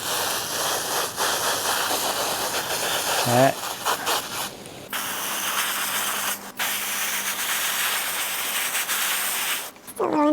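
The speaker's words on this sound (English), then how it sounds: "turn this upside down and just start spraying the sides" A garden hose on a flat spray setting blasts water over the parts of a SMONET CR6 Pro pool robot, a loud hissing spray that cuts off and restarts in bursts, with a brief spoken word.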